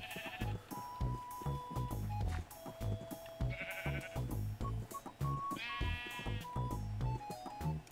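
Sheep in a video game bleat repeatedly, several overlapping calls in quick succession over a thumping, rhythmic game background, close and clear.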